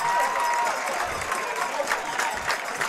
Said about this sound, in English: This Tufts crowd is on their feet here.